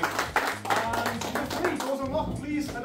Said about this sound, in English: So please round of applause for Dan as well.